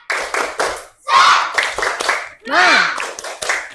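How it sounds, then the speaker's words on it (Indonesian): A classroom of pupils performs a rhythmic spirit clap in short bursts of patterned hand claps mixed with their chanted voices, loud and close over nearly four seconds. "1, 2, 3. Tepuk semangat."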